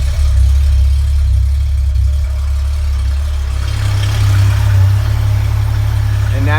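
A car's air-conditioning condenser fan whirring in an open engine bay alongside the steady rumble of an idling engine, loud and continuous and close by, with the fan's rushing air growing stronger partway through.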